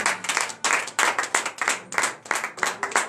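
A church congregation at a morning prayer service claps in acclamation, with rhythmic, fairly loud group clapping in bursts of quick beats repeating steadily across the whole stretch.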